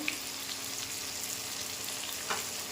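Spices sizzle in a pan as salt and turmeric are added, giving a soft, continuous frying hiss at low volume with a couple of faint stirring taps and no talk.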